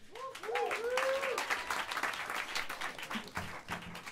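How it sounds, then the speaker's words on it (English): Applause from a small audience at a live jazz club in New York City, warm clapping and scattered whoops under a voice, a quick melodic vocal cheer near the start, the clapping thinning toward the end. "give a warm round of applause for the great Charles Gould on the drums"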